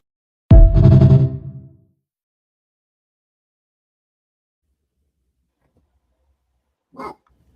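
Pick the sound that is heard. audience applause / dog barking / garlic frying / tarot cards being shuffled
dog barking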